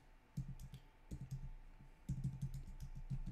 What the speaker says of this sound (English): You see that I'm intentionally not typing the correct address.